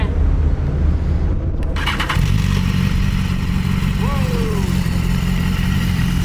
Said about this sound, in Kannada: ಬೈಕ್ ಸ್ಟಾರ್ಟ್ ಮಾಡೋಣ ಅಂತೆ